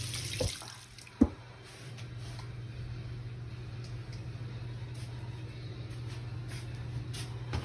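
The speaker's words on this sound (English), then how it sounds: "Now I gotta wash my hands." Running tap water splashes steadily in a sink as hands are washed, with a sharp clunk early on and a constant low hum in the background.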